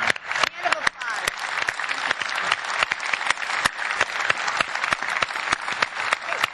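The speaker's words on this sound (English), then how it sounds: "Let's give Sean a hand of applause." Audience applause fills a convention hall after a talk by coach Sean Payton, dense steady clapping from a large crowd with a few sharp individual claps standing out, sustained loudly throughout.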